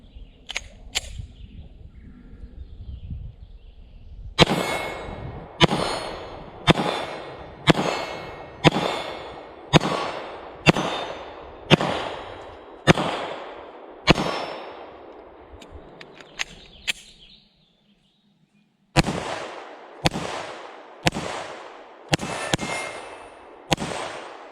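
S&W M&P 2.0 Compact Carry Comp 9mm pistol firing Blazer Brass 115-grain rounds at a range: a string of about a dozen sharp, loud, evenly spaced shots, then a brief silent pause and four more quick shots.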